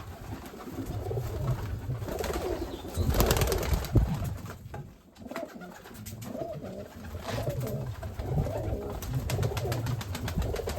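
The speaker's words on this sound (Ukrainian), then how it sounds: "Так что вот такие вот голубы." Homing pigeons, a newly acquired pair of lemon-coloured Czech birds, coo steadily and close by in a repeating throaty rhythm, with no talking over them.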